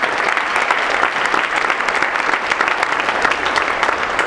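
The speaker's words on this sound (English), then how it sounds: "Would you please give them a round of applause?" Steady, dense clapping fills a congressional town hall meeting as the audience applauds the introduced guests, sustained and fairly close with no pause throughout.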